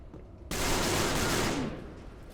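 A sudden dense burst of automatic gunfire from the video game Peripeteia begins abruptly after a brief quiet moment, loud and continuous for about a second before fading into a trailing echo.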